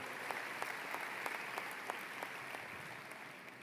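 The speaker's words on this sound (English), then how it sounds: "Give him a thunderous round of applause and keep it going." A large graduation crowd in an arena gives the high school principal a sustained, even round of applause, heard as a dense wash of claps from a distance with no pause.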